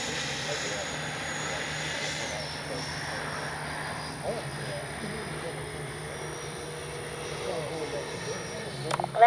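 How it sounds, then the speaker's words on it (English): FMS 70mm F/A-18F RC jet coming in to land with gear down, a thin steady ducted-fan whine heard at a distance over outdoor wind, with someone talking under it. "Gear down and ready to land."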